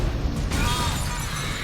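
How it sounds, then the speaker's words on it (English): A teapot cannon fires in Alice: Madness Returns, a loud, booming blast with bursting debris that rings out over the game's busy background noise. "Get you with the teapot cannon."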